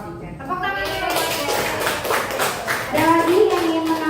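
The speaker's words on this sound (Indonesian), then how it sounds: "Oke, tepuk tangan." Classmates clap together in a classroom after the teacher calls for applause, a dense patter of hand claps lasting several seconds with voices talking over it.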